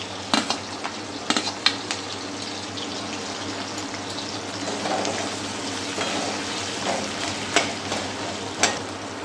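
Garlic and ginger sizzle steadily in a hot pan for a chicken curry, with scattered sharp clicks and scraping stirs breaking through the continuous frying hiss, close and fairly loud, no talking.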